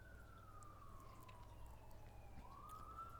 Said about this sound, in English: Oh, there's a siren in real life